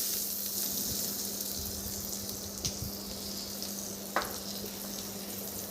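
Hot tempering oil poured over handvo batter, a continuous crackling sizzle with a couple of brief knocks from a utensil, steady and moderately close.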